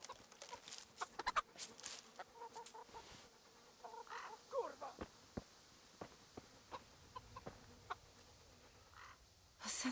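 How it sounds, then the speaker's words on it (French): Chickens in the video game Kingdom Come: Deliverance cluck in short, scattered bursts, faint and intermittent among quiet ambient game sounds, with a brief louder noise at the end. "Allez les poules, gavez-vous."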